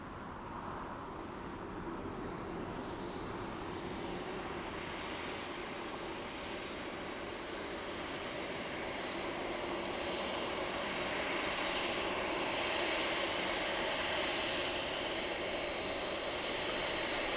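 Boeing 747 engines at LAX drone steadily for the whole stretch, a moderate, distant jet rumble that slowly grows louder toward the end, with no voices over it.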